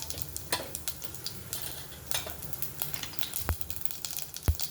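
Cumin and mustard seeds sizzle in a small ladleful of oil inside a pressure cooker, a steady close frying crackle broken by a few sharp clinks of a spoon against the metal pot.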